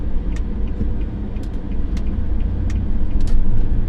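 Steady broadband road rumble inside a moving car with the air conditioning running, a constant loud low drone with faint higher hiss, no talking.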